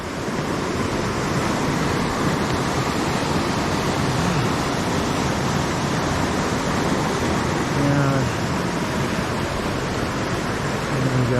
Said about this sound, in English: coming up to the second bridge on the trail, and another waterfall, little one, but waterfall nonetheless.